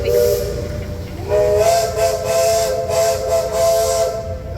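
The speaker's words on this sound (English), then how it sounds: "Tell that train to hush." Steam whistle of the Liberty Square riverboat hissing with a sustained tonal blast that rises in the middle, set against a broad hiss and busy park background.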